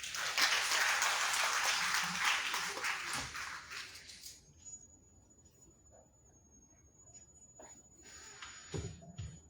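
An audience at a conference opening ceremony in Benin applauds as a bishop is welcomed to the podium. Dense, loud clapping lasts about four seconds, then fades into quiet room tone with a few scattered claps.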